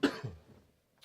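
A single close cough from a person with a cold and runny nose, a sharp burst trailing off quickly into quiet during a live Q&A session.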